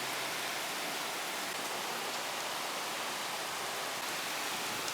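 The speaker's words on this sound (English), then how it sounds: "That's a bit more like Florida rain." Heavy rain from a hurricane in Florida pours down steadily, a dense continuous hiss on a roof and palm trees with no pauses, loud and even throughout.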